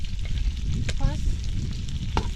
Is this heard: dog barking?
no